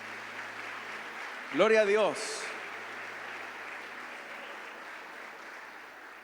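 A church congregation gives a round of clapping as an offering of praise during a Spanish-language service. The applause is soft and steady beneath a short spoken exclamation, then dies down to a quiet room.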